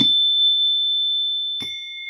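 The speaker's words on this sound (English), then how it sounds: "when I hit this Pavlovian bell," Pavlovian bell struck twice, each strike giving a bright sustained ring that hangs on and overlaps the next, close and clear with no talking.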